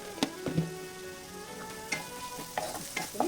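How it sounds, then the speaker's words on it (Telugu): Radish fries in a pan with salt and turmeric while a spoon stirs it, making several sharp scraping clinks over a low, steady sizzle. "బాగా కలపెట్టుకునేసి వేగేంత వరకు వెయిట్ చేయాలి"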